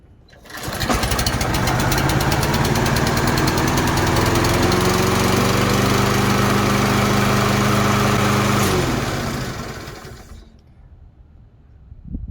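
A Toro lawn mower with a Kohler engine starts up and runs at a steady, loud roar for about eight seconds, then cuts off and winds down to quiet.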